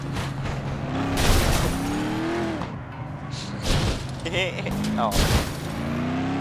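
A school bus races in FlatOut 2, its engine droning steadily alongside crashes and impacts, with a person exclaiming briefly over the noise.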